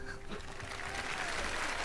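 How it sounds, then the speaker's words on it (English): Applause from a crowd at an esports tournament match plays as a steady, dense clatter of clapping that holds evenly for under two seconds. "the applause could not have come at a better time"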